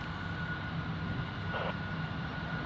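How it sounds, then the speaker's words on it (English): A distant jet engine run-up at Newcastle International Airport drones steadily with a low, continuous rumble and a faint whine, heard from far off without any voices. "Sounds like they're doing an engine run over there on the north side of that Jet 2."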